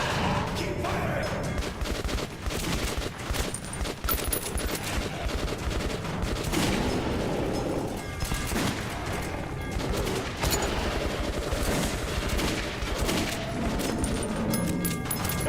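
Sustained gunfire and automatic weapon bursts crackle through a video game battle, with dense overlapping shots and occasional heavy impacts, loud and continuous throughout.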